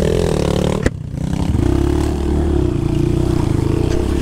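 A new Honda Bros 160 motorcycle drives through a river with a loud, steady engine drone close by, a brief clatter near the start and then continuous churning noise.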